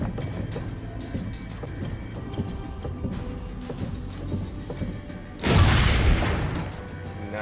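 A single booming cannon shot in the video game Assassin's Creed Brotherhood, a sudden loud blast with a rumbling tail about two-thirds through, over a low background of game ambience.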